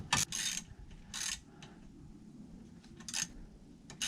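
A ratchet tightening brake bolts on a Mini Cooper S R53 during a front brake upgrade, giving several short bursts of clicking separated by quiet pauses.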